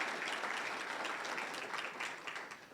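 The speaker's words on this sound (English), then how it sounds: "quick applause for all of our principals, counselors that are here" An audience at a scholarship ceremony gives quick applause for school principals and counselors, a steady wash of clapping heard faintly from a distance, with no voices over it.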